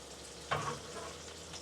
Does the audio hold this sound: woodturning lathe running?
no